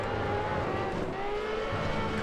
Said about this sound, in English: Big boom there coming from the exhaust on the downshift.